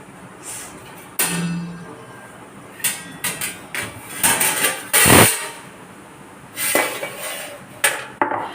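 Naan dough being beaten and kneaded by hand, a string of uneven slaps and thumps, some sharp and loud, with short pauses between, close up and without talk.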